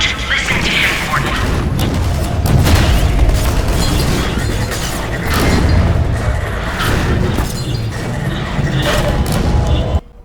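Loud, continuous gunfire and booming blasts from the Half-Life 2 shooter game, dense and sustained with repeated heavy bursts over a constant roar of combat noise.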